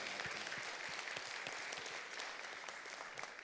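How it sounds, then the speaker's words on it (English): Audience applause at an agri-business investment forum in Jamaica, a steady moderate clatter of many hands clapping throughout, fairly distant and even. "that deserves a round of applause"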